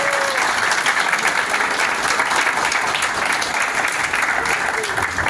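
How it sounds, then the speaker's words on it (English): Sustained audience applause fills the room for the board at a PFLAG Great Lakes Bay chocolate party fundraiser, a steady dense wash of clapping with a few voices mixed in. "could you give one more round of applause?"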